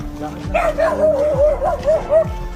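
Dogs yelp and whine in a series of high, wavering cries at close range while people talk over them.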